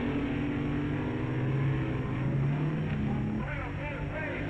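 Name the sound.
drag racing cars accelerating off the line, 1959 Dragmaster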